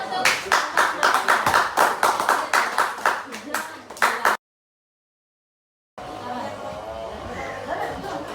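Students in a classroom clap for a group during a discussion lesson, a quick rhythmic burst of close hand claps that stops abruptly, then gives way after a silent gap to room chatter and a speaking voice.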